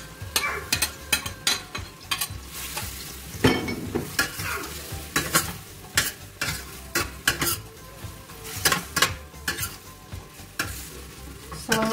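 Carrot and potato stirred into a pork goulash in a pan, with utensils scraping and clanking rhythmically over a steady sizzle of frying, close and moderately loud.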